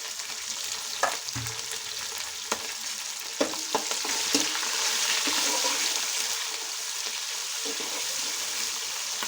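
Onions frying in a pan with a dense, steady sizzle throughout and occasional clicks of a spoon stirring, heard up close.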